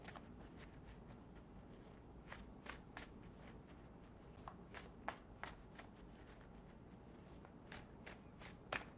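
Quiet, close riffling of a deck of cards, with bursts of crisp flicks and taps repeating irregularly against a soft background hiss.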